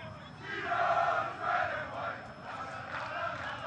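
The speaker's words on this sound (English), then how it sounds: "Spirited crowd here at Lamport." Spirited crowd at Lamport Stadium in Toronto during a soccer match between Toronto FC II and Ottawa Fury FC, rising chants and cheers in two or three swelling waves, moderately distant.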